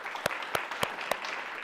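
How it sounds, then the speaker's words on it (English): An audience at a book launch applauds its panelists with a brief burst of crowd clapping, several crisp, prominent claps standing out in a regular rhythm over the continuous patter. "I'd invite us to give a round of applause to our panelists"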